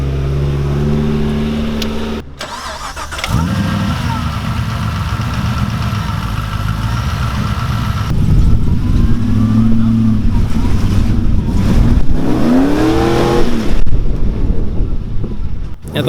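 A 4WD engine running rough on only four cylinders after water got into its O2 sensors, a loud uneven idle and revving off-road close to the microphone, with wind noise and brief talk.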